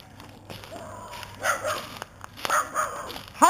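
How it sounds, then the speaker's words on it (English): Dogs barking as a person walks them out of the woods, a few short barks and yips in brief bursts at moderate distance, with a sharper bark near the end. "Oh, that's just a person with dogs."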